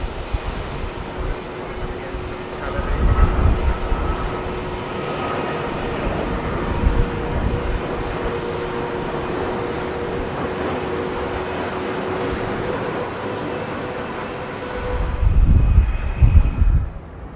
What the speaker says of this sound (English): It's El Al's 787-9.